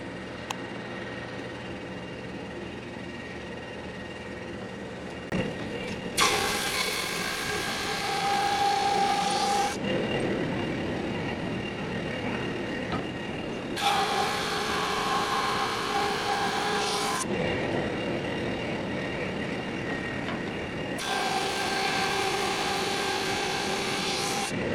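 A drum sander grinds across a wooden board in three long passes, a loud broadband rushing roar rising and falling over a constant motor hum, with no voices.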